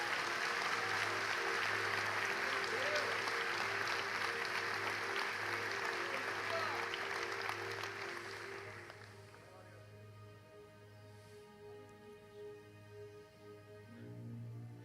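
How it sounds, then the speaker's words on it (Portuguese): A church congregation bursts into strong, sustained applause that holds loud for several seconds, then thins out and fades while a low hum lingers beneath and a few faint voices remain. "Quantos podem dizer amém e dar um aplauso bem forte ao Senhor neste lugar?"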